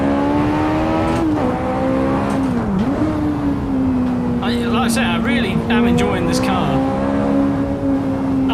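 A Ferrari engine in a racing video game drones loud and steady, its pitch dipping and swelling as the car shifts and brakes, with tire squeal near the end and a voice talking over it.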